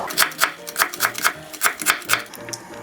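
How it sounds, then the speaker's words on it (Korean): A knife slices mushrooms on a cutting board with crisp, evenly spaced chops, close and distinct, slowing near the end. "버섯 썰어줍니다."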